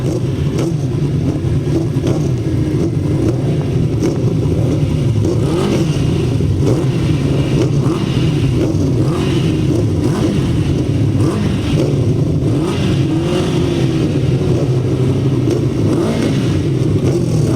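Grasstrack racing motorcycles rev and idle on the grid for a 2007 meeting at Tallington, a steady loud engine drone with rising and falling throttle blips from several bikes, heard from a moderate distance.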